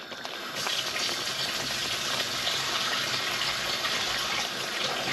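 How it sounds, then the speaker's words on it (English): A splash of water poured into a pan of lasagna sauce, a steady gushing pour that starts after a brief pause and keeps going close by, with no voices. "I'm just going to add a little splash of water."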